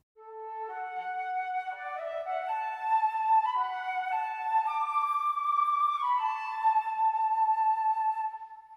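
An SSW orchestral sample library recorded at Lyndhurst, heard through close mics and outriggers, plays a soft sustained string-like passage of overlapping held notes shifting between chords, clean and alone without talk.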